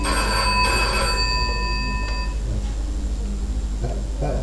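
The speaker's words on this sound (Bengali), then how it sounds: "কে ফোন করলো এত রাতে?" A telephone rings late at night with a bright electronic ring that repeats a couple of times and then stops, leaving a quiet room with a low hum and brief faint sounds.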